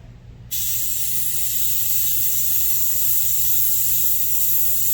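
An airbrush hisses steadily as paint is sprayed on a Chevelle around a stencil, a continuous close, even spray that starts abruptly after a brief quiet moment and runs alone without pause.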